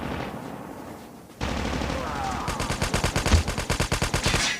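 Rapid bursts of Call of Duty gunfire, loud and close, firing in a fast repeating rhythm after a short stretch of background noise.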